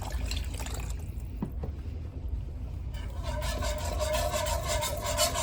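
Broth pours steadily into a pot of roux with a continuous liquid splashing and gurgling that brightens toward the end, loud and close, with no talk.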